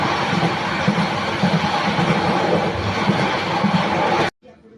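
Train carriage interior on a run toward Chittagong, with a steady loud rumble and rattle of the moving train that continues evenly, then cuts off abruptly near the end.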